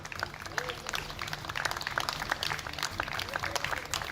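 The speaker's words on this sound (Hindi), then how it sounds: "कुछ ऐसी ही तालियों की आवाज इस वक्त देश सुनना चाहता है" Applause at a Pune hospital as recovered coronavirus patients are discharged, a dense, continuous patter of many hands clapping at moderate distance, with voices mixed in.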